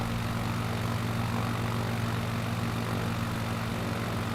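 Propeller aircraft engine in a Flight Simulator game, a steady loud droning hum with a constant tonal buzz as the throttle is eased up, running alone without pause.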